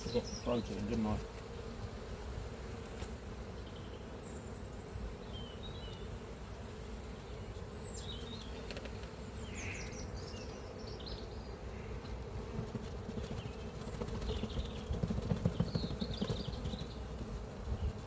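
Honey bees hum continuously around an open hive during a queen rescue, a faint, dense buzzing with individual insects darting close now and then.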